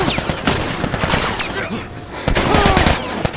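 Rapid bursts of video game gunfire crackle in quick clusters, loud and close, with a brief lull in the middle before another volley.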